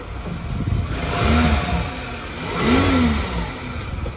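Suzuki Grand Vitara engine running after an engine repair, idling steadily with two rising revs, close and clear with no talking.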